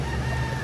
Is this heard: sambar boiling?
no